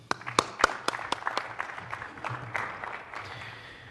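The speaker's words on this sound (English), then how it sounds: "Let's give a nice round of applause to Doug McKenney." A small audience applauds a sports science speaker, scattered individual claps ringing out in the first half, then a thinner ragged patter fading toward the end.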